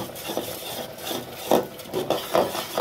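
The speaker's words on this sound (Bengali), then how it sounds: "এখন অল্প অল্প করে এখানে চাউলের গুঁড়োগুলো দিয়ে সুন্দর করে ছাইটা কেড়ে নেব।" Rice flour is stirred into hot milk and sugar in a pan, giving close, soft scraping and rubbing strokes in an uneven rhythm with a few firmer scrapes.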